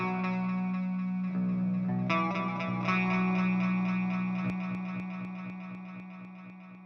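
Sustained notes fed through a ping-pong stereo delay repeat back and forth between left and right, the echoes stacking and then gradually fading out, with no talking.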